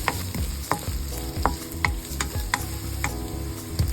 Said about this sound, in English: we heat oil in a pan and we saute the onions and garlic.